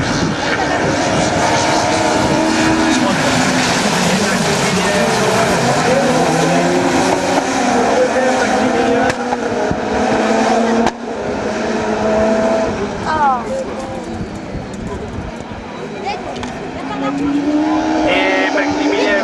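Rallycross race cars at Lessay roar off the start line together, a loud, dense wall of engine noise that holds steady with brief dips and surges, heard close under a commentator's voice.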